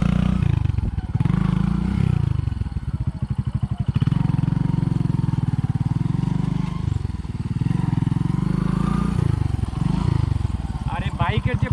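A Bajaj adventure motorcycle rides along a narrow road, its engine droning steadily up close with a rumbling, pulsing note under continuous wind buffeting, and a voice talks over it.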